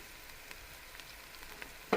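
Ginger paste frying in a pan gives a steady, quiet sizzle with faint crackles, ending in a brief louder clatter.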